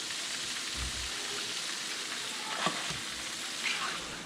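Rattlesnake meat frying in a pan gives off a steady, dense sizzle and crackle, close and even, with a couple of soft knocks and stirs.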